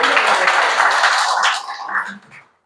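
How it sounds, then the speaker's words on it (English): A short burst of audience clapping and applause at an open mic event, loud at first then thinning out and fading within a couple of seconds. "Big round of applause for him, guys"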